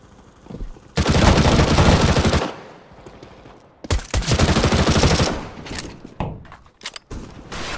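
Counter-Strike: Global Offensive gunfire on the Dust2 map: two long, loud bursts of rapid automatic fire, separated by a short lull, followed by scattered single shots and quieter clatter near the end.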